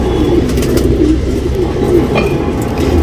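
A male Sabzali tournament pigeon coos in low, throaty rolling bursts, close and fairly loud over a steady rumbling background.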